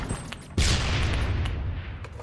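Gunfire in the Phantom Forces shooter game, a sudden loud blast followed by a rapid stream of shots that rumbles on close by.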